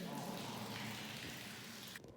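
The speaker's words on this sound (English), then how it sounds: "It has its own waterfall." A waterfall inside a dark cave in Armenia gives a steady, dense rushing of falling water, loud and continuous, then cuts off abruptly near the end.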